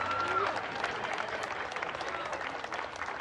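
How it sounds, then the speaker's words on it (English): A crowd at a busking show applauds with dense, steady clapping that holds at an even level throughout, fairly close. "give this man a big round of applause for helping out"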